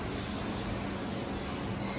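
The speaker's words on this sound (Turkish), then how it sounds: "Yukarıdan aşağı doğru zımparayı numarada ufalıyor suyla beraber" A Nissan Almera's car body is wet-sanded by hand with water and sandpaper in a body shop, giving a faint, steady scratchy rubbing with no voices.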